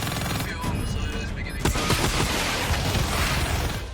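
Sustained gunfire from air support mowing down enemies in Black Ops 3, a dense continuous barrage with heavier bursts after the first second and a half, loud and close.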